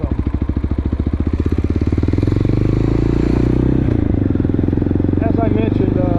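A motorcycle running along New Mexico Highway 28, its engine throbbing loud and close with a steady pulsing beat that smooths into a continuous drone, and wind and road noise mixed in.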